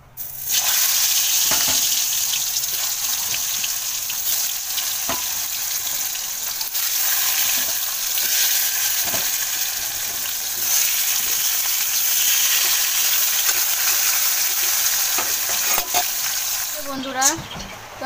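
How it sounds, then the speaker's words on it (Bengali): Cut pumpkin fries in hot oil in a wok, giving a loud, continuous sizzle that lasts throughout, with occasional faint clinks and a brief sound near the end. "আর এই যে কুমড়ো কেটে নিয়েছি, তো কুমড়োটা এখন ভাজা করব"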